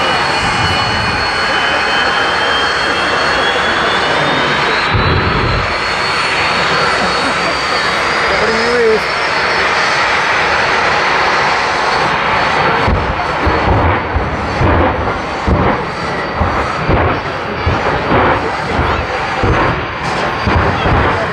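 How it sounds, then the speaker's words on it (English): Drag racing dragsters taking off at a strip, a loud, sustained roaring engine blast that fills the air. Heavy rumbling pulses follow as it continues, and a voice speaks over the noise. "when the dragsters take off, there's people holding the windows in because the dragsters try and blow the windows out"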